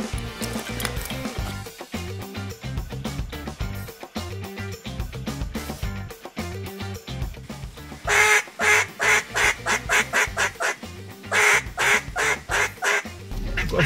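Duck calls blown by a hunting guide in flooded Arkansas timber, a steady run of quacking notes that builds into loud, rapid pulsing bursts near the end, close and prominent.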